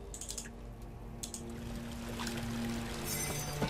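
Water pours and trickles through a pipe in the horror game Amnesia, a soft continuous flow that builds slightly louder over the last seconds, with faint game ambience and no talk.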